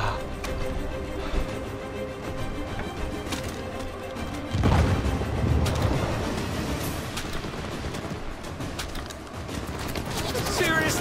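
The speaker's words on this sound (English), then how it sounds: "somebody's still shooting at us" Uncharted 4 gunfire rattles in a ship graveyard battle, with bursts of shots and a heavy impact midway under a busy mix of game sounds and voices.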